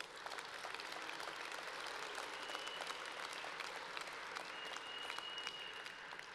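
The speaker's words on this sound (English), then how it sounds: "So round of applause to each of you." Applause from guests at a charity gala dinner, a continuous, evenly spread clapping that fills the room at a moderate level for several seconds without speech.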